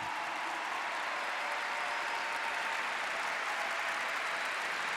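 A dense, even wash of audience applause at a religious gathering, steady and continuous throughout with no talk over it.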